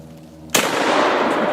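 A UTS-15 shotgun fired at a propane tank outdoors gives a single loud, sharp blast after a quiet moment, followed by a long, ringing, noisy decay.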